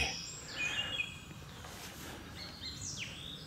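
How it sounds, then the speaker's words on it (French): A wild bird calls with a few faint, high chirps and short sweeping whistles, heard at a distance over a steady low background rumble outdoors. "Ah, un oiseau qui me répond."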